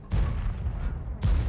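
Two heavy booming tank gun shots in the World of Tanks video game, one at the start and another about a second later, each with a low rumbling tail.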